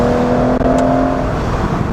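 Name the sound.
2006 Aston Martin DB9 Volante engine and exhaust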